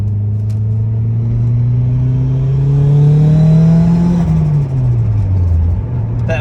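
A car with a Walbro fuel pump accelerates hard at half throttle, its engine note rising steadily from a low drone into a strong rev, then dropping on a shift before pulling again, loud and close from inside the cabin.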